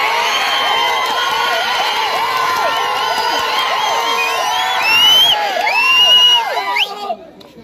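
Crowd at an outdoor political rally cheers and shouts steadily, many raised voices and whoops layered into a sustained roar that swells near the end before cutting off.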